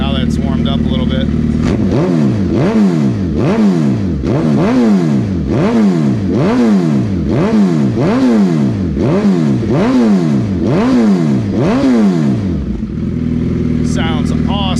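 A 2014 Suzuki Hayabusa with an M4 GP19 exhaust revs loudly and close, about a dozen sharp blips in a steady rhythm, each rising and falling back to a rumbling idle before it settles.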